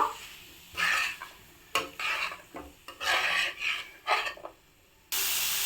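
A spoon scrapes and stirs figs through a thick spice paste in a pan in several uneven bursts, with a soft sizzle underneath and pauses between strokes.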